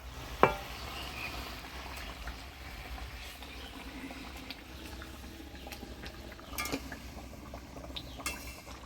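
Boal fish curry bubbles and simmers in a pan as water is added and fried fish pieces go in, a steady low bubbling with a few splashes and soft clinks.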